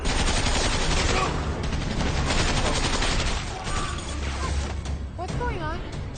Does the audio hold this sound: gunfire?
yes